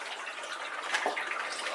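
Water with rice fish and guppies poured into a small outdoor mini-pond tub, a steady soft splashing gush lasting under two seconds with a slightly stronger surge near the middle.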